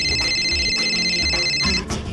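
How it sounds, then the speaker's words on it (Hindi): A telephone rings with a steady electronic ringtone, loud and close, repeating its tone pattern for about two seconds in a domestic TV drama scene before cutting off. "महारानी तानिया का फोन है"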